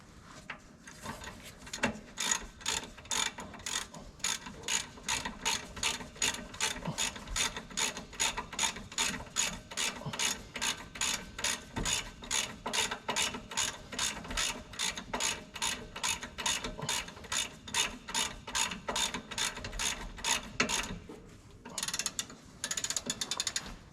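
Ratchet wrench tightening wheel bearing bolts on a 2011 Mercedes Luton van, a steady close run of rapid clicks in long continuous strokes with brief pauses, no talking.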